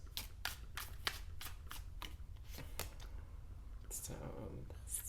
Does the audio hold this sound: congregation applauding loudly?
no